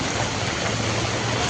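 Monsoon rainwater runs through a street in a heavy downpour, a steady, dense rushing wash that holds an even level throughout with no voices.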